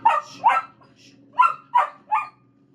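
A pet dog barks at home after its owner returns from a long absence, giving five sharp, close barks in an uneven rhythm with short pauses between them, in an otherwise quiet room.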